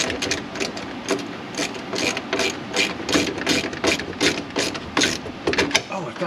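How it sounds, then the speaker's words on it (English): A power ratchet runs in quick, repeated whirring bursts at close range while a fender and mud flap are being reassembled, with short pauses between the bursts. "Where's that power ratchet I needed?"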